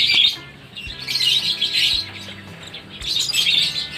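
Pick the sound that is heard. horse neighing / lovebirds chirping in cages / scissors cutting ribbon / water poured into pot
lovebirds chirping in cages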